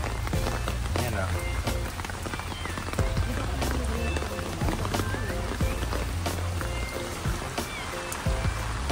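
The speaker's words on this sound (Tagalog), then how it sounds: "kaso nga lang umuulan na" Rain falls on a rainy day out at rock formations in Taiwan, a continuous wet hiss and patter with people talking over it throughout.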